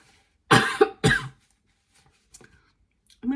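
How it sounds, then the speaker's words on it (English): A person coughs in two harsh, loud bursts, followed by a few faint small sounds and a brief noise at the end, with a quiet gap between. "Oh, sorry, I had a coughing fit there."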